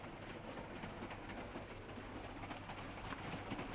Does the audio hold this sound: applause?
no